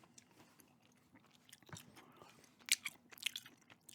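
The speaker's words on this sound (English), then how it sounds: "doing a gum chewing review here today of" Gum chewed close to the microphone in an ASMR setting: soft, moist smacks and clicks at first, then sharper, louder crunchy bites toward the end.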